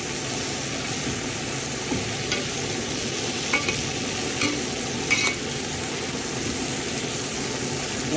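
Pinakbet vegetables with winged beans being stirred in a frying pan, a steady sizzling hiss with a few soft utensil scrapes against the pan, close and continuous, with no talking.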